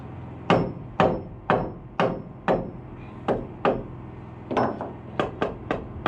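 Hammer blows drive nails into wood during a DIY structural insulated panel (SIPs) house build, with about a dozen sharp, loud, evenly paced strikes, some in quick bursts, close by and with no talk.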